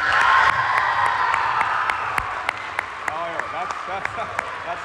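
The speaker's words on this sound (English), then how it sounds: "That's how you clap." Crowd applause and cheering at a school athletic awards assembly swell at first, then thin out into a few scattered claps while people murmur and talk nearby.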